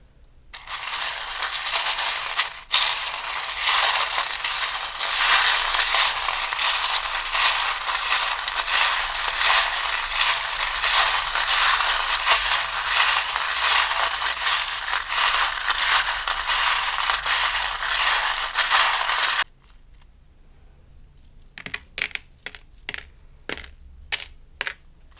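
Small metal charms shaken together for about twenty seconds in a dense continuous rattle during a pick-a-card career reading, then a few scattered clinks as they drop and settle.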